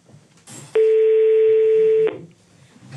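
A telephone dialing tone on a call placed during a French entertainment broadcast: one loud, steady electronic tone lasting just over a second, with quiet room noise before and after.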